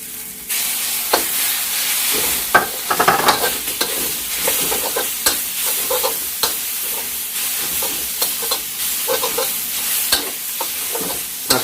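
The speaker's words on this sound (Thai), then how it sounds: "จากนั้น ใส่ หมูสับผัด" Minced pork stir-fried in a hot pan, with a steady loud sizzle and a dense run of quick spatula scrapes and clatters throughout, close and continuous, with no voices.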